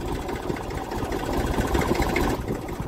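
A farm vehicle's engine runs in first gear, moving slowly along a road, with a steady close rumble and fast chugging pulses throughout and no talking.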